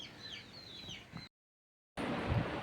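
Chickens cluck and chatter around a rural yard, a steady close flock murmur with bird calls on top, broken by a short gap of silence before the clucking resumes louder.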